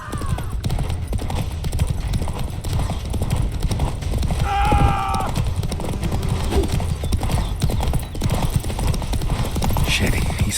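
Roach the horse gallops in The Witcher 3 with a rapid, steady clip-clop of hooves throughout a chase, under shouted game dialogue and a brief whinny near the middle.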